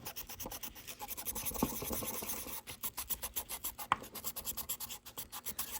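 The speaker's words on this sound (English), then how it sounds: "This is something called a fiberglass brush, and well, really is helpful." A fiberglass brush scrubs brass metal clean before soldering, producing quiet, rhythmic rasping strokes in steady back-and-forth bursts, close to the microphone with no talking.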